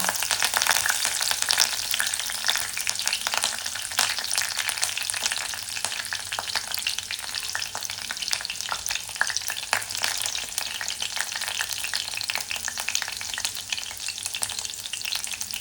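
Green chilies and curry leaves fry in hot oil in a pan, giving a dense, steady sizzle and crackle that stays loud and close the whole time, with no talking.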